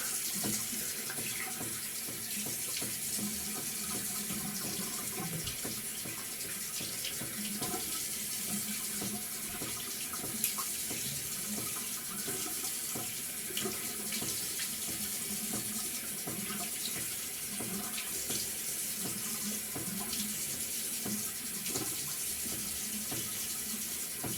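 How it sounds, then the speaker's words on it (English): A tap runs steadily as water rinses a shaving soap plate at a sink, a continuous close splashing rush lasting throughout with no talking. "I'm gonna rinse this off my plate"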